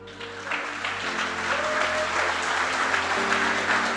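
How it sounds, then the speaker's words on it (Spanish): Congregation clapping in church during a sermon, a steady moderate wash of applause with sustained organ-like tones beneath and little talk. "¿Cuántos le aplauden?"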